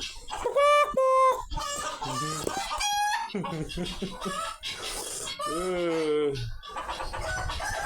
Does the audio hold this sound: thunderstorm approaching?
no